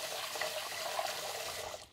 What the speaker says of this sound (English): I've got a bowl, I've got my rice, I'm just gonna fill it up